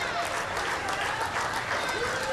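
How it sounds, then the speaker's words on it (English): A round of applause welcoming teenagers and their families at a USO event for children of military members: a brief, steady wash of crowd clapping at moderate distance with some voices mixed in. "than 400 teenagers and their families were welcomed with a round of applause, as you just heard"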